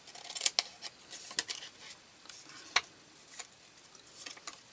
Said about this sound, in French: Je vais couper déjà en biais.